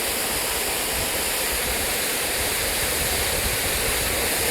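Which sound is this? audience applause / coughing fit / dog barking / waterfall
waterfall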